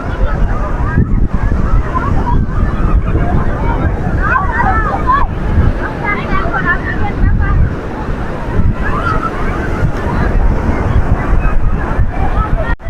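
Sea waves surging and breaking at Somnath beach, a continuous loud roar of surf with gusty wind noise buffeting the microphone and a crowd of bathers faintly audible underneath.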